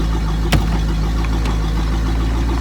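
An OMC Cobra boat engine idles steadily with exhaust running, a loud constant low drone with one sharp knock near the start.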